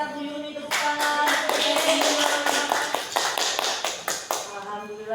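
A small audience at a school training session gives a short round of scattered hand claps, fairly close, with voices and background sound running underneath.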